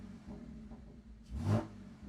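Inside an Audi S5 with a long-running engine and an oil leak, a low idle rumble hums along, then the engine swells in a short rev near the middle before settling back to a steady idle.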